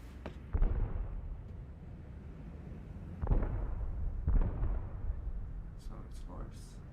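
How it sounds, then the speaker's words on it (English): Distant explosions in a video game: a few muffled, booming thuds spaced seconds apart, heard faintly over a steady rumbling background, with a couple of brief higher clicks near the end. "We have to look for an explosion."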